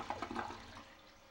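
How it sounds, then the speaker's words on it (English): A newly installed Toto toilet flushes with a quick gurgling rush of water that fades into a soft, fainter swirl, heard close up and alone. "Should we flush it?"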